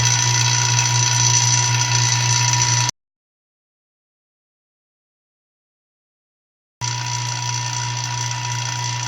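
A vacuum pump evacuating a glass chamber gives a steady, even drone with a low hum. It cuts out abruptly for several seconds of silence, then resumes unchanged.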